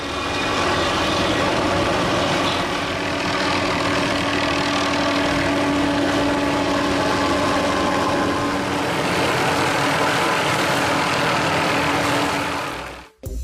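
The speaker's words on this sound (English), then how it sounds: "it's necessary to control not only the helicopter, but also the cutting mechanism" A helicopter fitted with a hanging tree-trimming saw works near power lines, its engine and rotor making a loud, continuous droning roar for the whole stretch before cutting off abruptly at the end.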